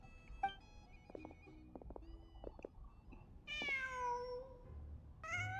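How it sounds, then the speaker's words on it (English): A cat meows inside a video game. Soft in-game clicks and tones come first, then two clear, fairly loud meows, one in the middle and another at the very end. "Huh. Just a cat."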